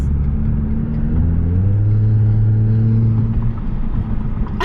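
Loud exhaust from a Mercedes C300 with a muffler delete, a deep steady droning rumble with a slight rise in pitch as the engine revs, close and continuous with no talking.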